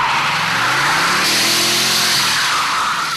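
Electric performance sports car accelerating hard, a loud continuous whine with rising tonal hum and broadband tire and road noise, close and steady throughout without speech.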